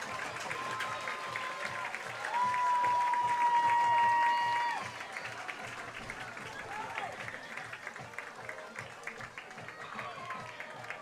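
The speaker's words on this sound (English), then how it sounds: "Crowd's going to make some noise." Crowd at a Friday night high school football game cheering and applauding as the Eagles take the field, a sustained distant roar with a whistle-like tone midway and a commentator talking throughout.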